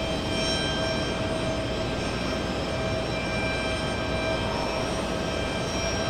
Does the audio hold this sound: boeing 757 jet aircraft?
yes